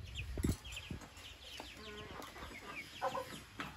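Young Wyandotte and Welsummer chicks cluck and peep softly in a barn, in scattered short calls at close range with quiet gaps between them.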